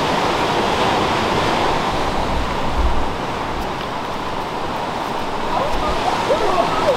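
Ocean surf rolls in at Bronte Beach in the early morning, a loud, continuous wash of breaking waves with wind buffeting the microphone throughout.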